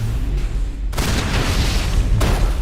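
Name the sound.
grenade explosions in Mass Effect, a video game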